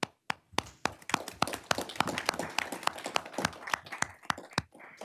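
A small group at a county board meeting claps, the individual hand strikes distinct and uneven, close and sharp, thinning out toward the finish.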